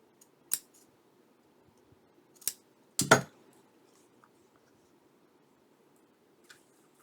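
Scissors snip through a paper trim piece for a handmade journal in a quiet room, a few short crisp cuts spaced apart with one louder double snip, then stillness.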